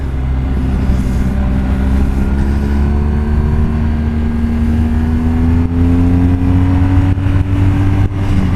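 A 2017 BMW R1200 GSA motorcycle drones along with a loud, steady engine note whose pitch climbs slowly through gear changes, the auto-blipper shifting smoothly, heard close from the bike with no talk.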